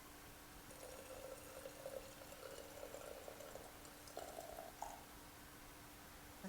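Tarragon vinegar poured slowly into a jar, a faint, steady trickle with a few brief tonal gurgles, heard alone with no talk.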